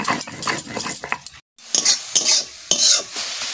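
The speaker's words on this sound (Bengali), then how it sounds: "শাক ভাজা হয়ে গেছে, তুলে নিচ্ছি।" Leafy greens fry in a pan with a spoon or spatula stirring them: close scraping strokes over a steady sizzle, broken by one brief silent gap, with no talk.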